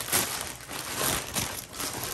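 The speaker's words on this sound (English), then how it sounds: "Rip this open." Plastic mailing package from Pacsun being ripped open up close, with a steady run of crinkling and tearing plastic and short louder bursts of rustle, with no talking.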